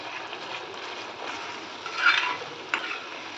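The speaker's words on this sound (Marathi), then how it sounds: "इथे आपल्याला ग्रेव्ही परतत राहायची आहे तेल सुटेपर्यंत" Egg masala gravy sizzles softly in oil in a pan and is stirred, a quiet, steady frying crackle with a couple of brief scraping stirs.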